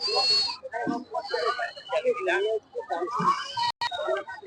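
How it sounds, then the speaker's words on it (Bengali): Goats bleat repeatedly at a crowded goat market, several calls rising out of dense crowd chatter and people talking close by throughout. "আজকে ছাগলের বাজারে অনেক বেশি ভিড় অনেক ছাগল বিক্রি হচ্ছে আজকে"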